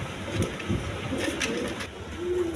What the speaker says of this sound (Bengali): বন্ধুগণ এখানে এক পেয়ার রেসার কবুতর আছে।